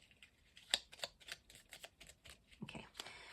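A deck of cards is shuffled by hand in a quick burst of crisp riffling flicks and taps, close up and fairly quiet, with a short sharper riffle near the end.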